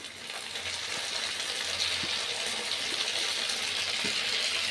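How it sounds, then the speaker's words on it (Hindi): Tomatoes and green chillies hit onions frying in a pan, giving a loud, steady, hissing sizzle that holds throughout with a few faint knocks. "अब हम इसमें टमाटर डाल देंगे और ये हरी मिर्चें,"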